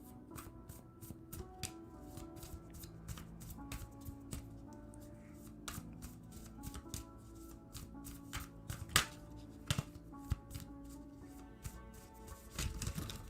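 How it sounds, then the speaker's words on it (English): A deck of playing cards is shuffled at close range, giving a long run of rapid, uneven riffling clicks and taps with a few sharper slaps near the end, and no talking. "Terrible shuffle. Cards went flying everywhere."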